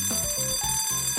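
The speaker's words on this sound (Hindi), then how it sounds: "घंटी बज गई। क्लास में जाना होगा।" A school bell rings in a cartoon classroom scene, a bright, continuous ringing sustained loudly throughout with steady rhythmic pulses underneath and no talking.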